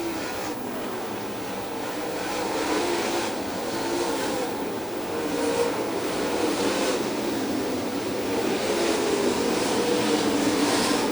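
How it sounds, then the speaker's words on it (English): Race cars battle around a dirt oval track in a 50-lap feature at Farmer City, a continuous, somewhat distant engine roar that swells and fades as the pack passes, with no talking. "Cars battle back there."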